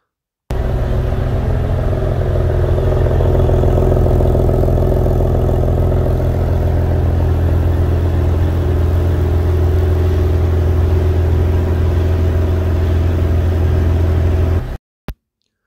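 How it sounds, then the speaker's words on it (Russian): The engine of a red metallic car idles steadily and loudly at close range in one unbroken rumble for about fourteen seconds, then cuts off abruptly. "давайте заодно послушаем, как звучит двигатель"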